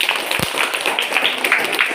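Classroom clapping for a student breaks out as a busy, continuous patter of many small hands, moderately loud and close, with a faint voice underneath.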